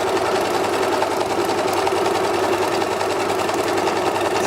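A sewing machine stitches a beach bag seam, running as a steady, fast, even mechanical whir up close without pause.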